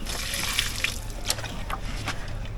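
Water running from a hose across a backyard farm in Kingstown, a steady broadband splash and hiss with brief brighter spurts, close and continuous without talk.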